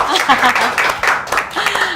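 An audience at a forum on corruption prevention and regional economics claps briefly, a mixed patter of applause overlapped by voices speaking.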